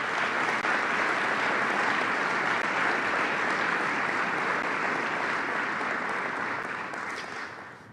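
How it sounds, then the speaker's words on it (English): An audience at a Sioux Falls State of the City campaign event applauds for city councilors, a dense, steady wash of clapping that holds loud for several seconds and then tapers off. "Please give these folks a round of applause,"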